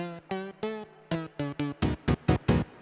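An Akai MPC One plays a synth tone as a string of about ten short, evenly spaced notes, the later ones brighter and buzzier, clear and isolated with no talking.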